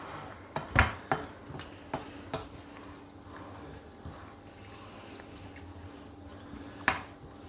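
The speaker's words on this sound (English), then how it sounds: "Just keep stirring" A spoon scrapes and knocks around a pot of chicken, leek and ham pie filling, giving a few distinct metallic clinks at the start and end over a steady low hum.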